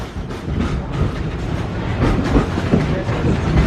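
A train at Disney's Animal Kingdom rumbles along the rails with steady clattering and rhythmic clicks from the wheels, loud and close, with no voices.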